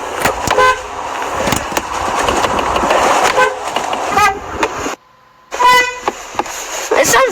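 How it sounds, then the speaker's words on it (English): A Ford Explorer Sport car horn toots in several short blasts and one longer honk, loud and close, over a noisy background with a brief total dropout partway through. "That is very Ford Explorer sport horn."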